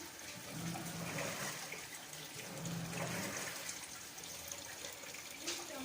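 A Panasonic automatic washing machine fills its tub with water during a tub-clean cycle, a steady rushing, splashing flow running continuously throughout.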